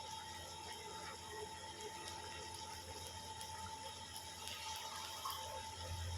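Water poured into a simmering curry gravy in a pan while making nargisi kofta, a steady, faint, hissing pour that runs unbroken without pause.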